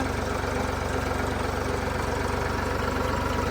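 A Ford 3600 tractor engine runs steadily while driving a generator, a loud, continuous low diesel drone with rhythmic knocking pulses, close by and without talk.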